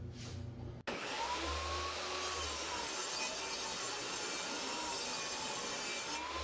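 A saw rips a wooden 1x6 board down to width for a home-built craps table, a steady loud whining cut that runs continuously after a brief start, close up and alone.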